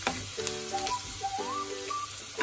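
Garlic frying in a pan while bitter melon is cooked, a soft steady sizzle held close by, with faint scrapes of stirring and a few brief whistle-like tones over it, no talking.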